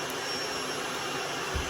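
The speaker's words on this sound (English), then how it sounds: "Just so that the vacuum is still on," A vacuum cleaner plugged into a repaired power outlet runs with a continuous loud, even motor roar and airflow hiss throughout, with no other sounds.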